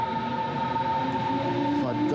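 A train passing, heard as a steady rumble with a sustained metallic tone and a faint squeal near the end, continuous and fairly loud outdoors.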